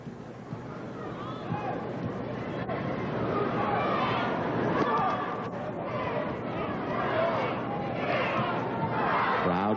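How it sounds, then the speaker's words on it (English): Crowd at a 1996 Nike Cup tennis exhibition match between McEnroe and Agassi, loud and continuous, a dense roar of many voices rising and chanting together throughout. "Crowd counting it down."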